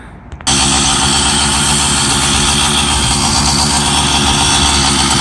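A motorized bicycle with a jackshaft drive starts up after a brief quiet moment, then its small engine runs loud and steady, a buzzing drone close by as it sets off down the street.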